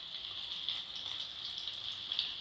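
Curry leaves hit hot oil in a pan with softened tomatoes for wedding-style sambar, giving a steady, faint crackling sizzle with small pops, close by and with no voices.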